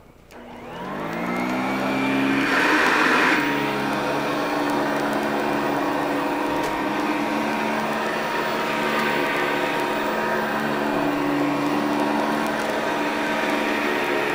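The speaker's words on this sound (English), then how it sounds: "And so now let's do a little vacuuming." A 1974 Eureka PowerTouch Cordaway upright vacuum cleaner, Model 2082, with a Vibra Groomer brush roller, motor whirring up and holding a loud, steady hum with a whining tone throughout, close by.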